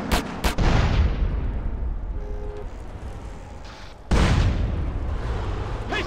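Loud gunshots in GTA San Andreas: two sharp blasts at the start and another heavy boom near the four-second mark, each followed by a rumbling tail over steady game noise.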